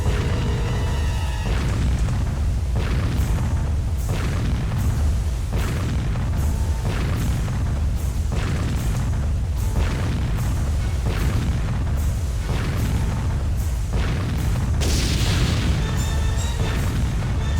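A warship's giant guns fire in the Warship Gunner 2 video game, heavy booming shots repeating roughly every second in a steady rhythm, loud and close, with a brighter blast near the end and no voices.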